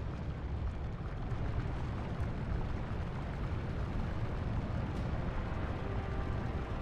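A deep, roaring rumble of fire and lava fills a scene in the 2005 God of War game, a dense, steady, loud wash of noise with no voices and no letup.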